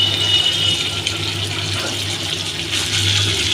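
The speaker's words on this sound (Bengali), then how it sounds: "খুব ভালোভাবে এটিকে নাড়িয়ে নেবার পরে আমি এর মধ্যে সামান্য পরিমাণ জল অ্যাড করে দিচ্ছি।" Water pours steadily into a hilsa spice mixture, a continuous close trickle lasting a few seconds with no talk.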